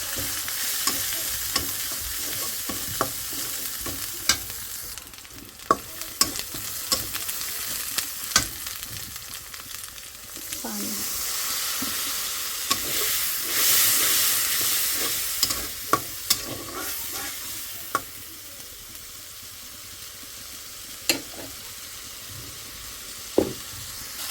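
Curry with green chillies and turmeric, cooked without potatoes, frying in a pan: a steady sizzle with scraping stir strokes and occasional sharp clicks of the spoon against the pan, close and continuous, with no talk.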